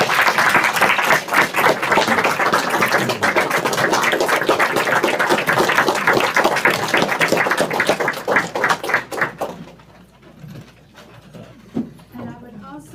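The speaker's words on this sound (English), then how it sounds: "Let's give them a round of applause" Loud, close applause at a city commission meeting honoring army veterans, dense clapping with distinct individual claps that thins out and stops, followed by quiet room noise and faint talk.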